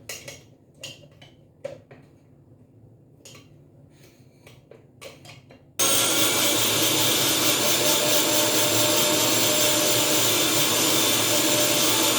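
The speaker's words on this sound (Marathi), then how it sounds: "पाणी घालून गंधासारखं बारीक वाटून घेत आहे" A kitchen mixer grinder starts abruptly after a few quiet clinks and runs in a loud, steady whirring roar, grinding raw mango masala paste with chili, turmeric and water.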